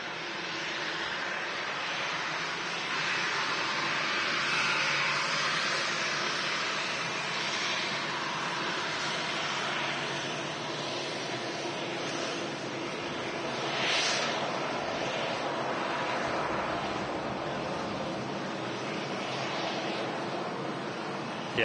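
A KLM Boeing 787-9 airliner at Manchester Airport, a steady broad jet roar heard from a distance that stays constant throughout with a faint swell, no voices.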